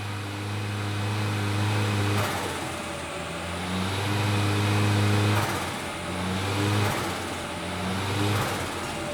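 A turbocharged car engine on a dyno, running low boost and very conservative timing, revs in steady sustained pulls with strong droning harmonics that swell and ease off several times, loud and close with no talking.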